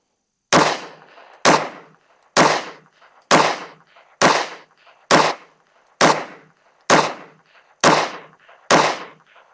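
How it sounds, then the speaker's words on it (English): Ten shots from an Anderson Kiger-9C pistol fitted with a Strike Industries Mass Driver comp, firing 115 grain Remington ammo, each a sharp loud crack, spaced about a second apart in an even string, close up, with no talk. "let's see if the Kiger will eat 10 rounds of this with the mass driver comp. Let's shoot the middle left."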